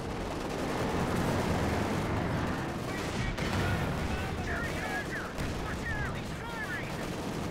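Scattered gunfire from a Company of Heroes 2 battle crackles over a dense, noisy wartime backdrop, distant shots and rumbling explosions filling the mix with no clear single report standing out.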